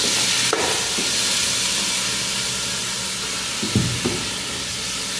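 Chicken wings sizzle and spit steadily in a hot pan, a dense continuous frying hiss with a couple of brief clatters of stirring near the end.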